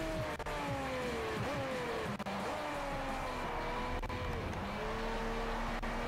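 A race car engine in the Forza Motorsport 4 video game drones loudly and steadily, its pitch sweeping up and down through gear changes, while tires squeal and slide through a corner with no talk.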